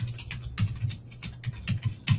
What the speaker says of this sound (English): Testing my typing skills here.